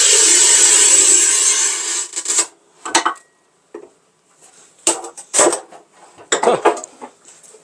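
A Hercules manual tile cutter scores 10 mm matte porcelain stoneware tile with a long, loud scraping hiss, followed by several sharp clacks and snaps as the tile is broken in half.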